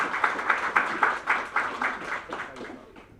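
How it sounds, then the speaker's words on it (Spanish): An indoor audience at a history talk gives a warm round of clapping, a dense patter of many hands that rises quickly and tapers off over a few seconds. "Quiero que recibamos con un fuerte aplauso a nuestro primer panelista"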